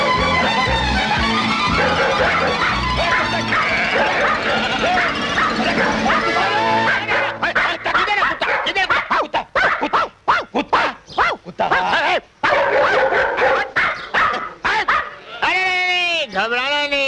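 A dog barks and yips repeatedly in a Hindi film scene, the barks starting after music fades and coming in loud, close bursts mixed with speech and scratching sounds.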